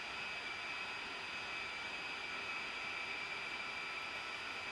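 Steady jet engine whine and broadband rumble from an aircraft taxiing in the DCS flight simulator, a constant unbroken drone with a thin high tone running through it for the whole stretch, no voices.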